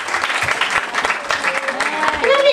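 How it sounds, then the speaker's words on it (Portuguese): Children clap together at a church children's party, a short burst of uneven applause with voices and a rising tone mixed in over the top. "Então aplausos para Jesus."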